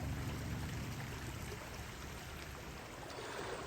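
Steady rushing of running creek water, a continuous broadband wash with no breaks, close by and moderately loud.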